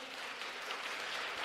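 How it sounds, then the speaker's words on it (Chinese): Applause at a church Sunday service, steady and continuous for a second and a half, moderately loud and unbroken by talk. "拍手了"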